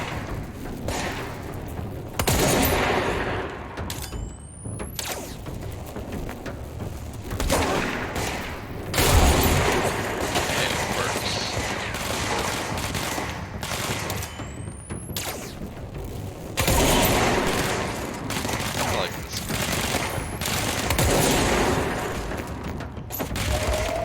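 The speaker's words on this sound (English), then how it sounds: "Armor-piercing gun." An armor-piercing gun fires repeatedly in the video game Control, heavy booming shots and bursts spaced in clusters, loud against a rumbling background with little talk.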